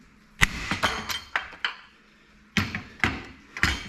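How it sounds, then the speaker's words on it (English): Hammer strikes the metal corners of a new leaf spring set in a garage workshop, about ten sharp ringing clanks in two bursts separated by a short pause, loud and close. "just hammer those corners in just a little bit"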